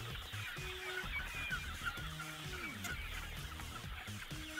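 Local chickens cluck during wet feeding, giving a scatter of short, soft clucks and drawn-out calls from several birds over a quiet background.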